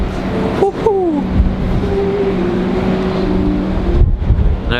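Strong gale-force wind batters the microphone in a loud, steady rush, with a whining mechanical tone sliding and droning underneath and gusty bursts near the end.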